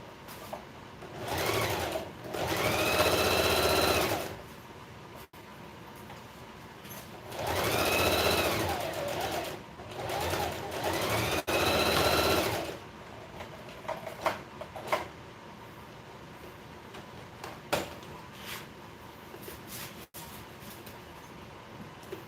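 A sewing machine stitches fabric in a few bursts of a few seconds each, whirring close and steady with short pauses between them, then goes quiet except for faint small clicks and handling noises.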